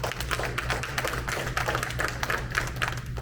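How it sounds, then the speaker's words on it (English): An audience at a public education candidate forum applauds, a dense, steady patter of many hands clapping at moderate volume for a few seconds, with a low hum underneath. "Let's give Heather a round of applause."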